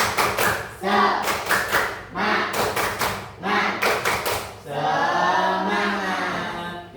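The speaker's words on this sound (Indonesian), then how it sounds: "Coba tepuk semangat." A school class claps hands in a rhythmic spirited chant pattern, loud quick bursts of claps in groups with short pauses, then a cheerful group shout of voices.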